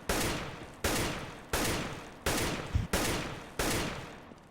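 Rapid bursts of AK rifle fire in a first-person shooter video game, six loud sustained volleys in steady succession with short gaps between them, close and with no talking.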